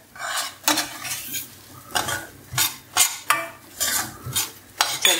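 A spoon stirs semolina (rava) roasting in ghee in a metal pan, giving repeated scraping and clinking strokes at an irregular rhythm with a faint sizzle underneath, close and fairly loud, with no voices.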